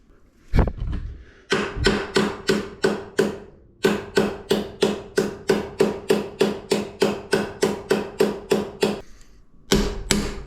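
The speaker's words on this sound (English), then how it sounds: "Who needs a block of wood when you can just use a hammer?" A hammer taps a fork part into a BMW K100 motorcycle in a fast, steady series of sharp ringing metal strikes, about two per second, close and loud, with a short pause midway.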